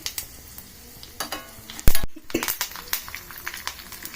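Tempering fries in a pan with a steady sizzle as a spoon stirs and clinks against the metal, with one loud scraping knock partway through, close and with no talk.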